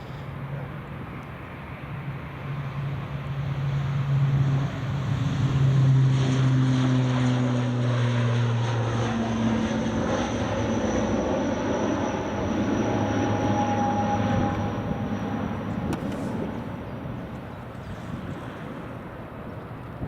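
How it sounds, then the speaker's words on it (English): An ATR 72-600 turboprop takes off from Edinburgh Airport, its steady propeller drone holding loud and close for the whole stretch, with a low tonal hum that slides downward as it climbs away. "That's the ATR 72600, up and away."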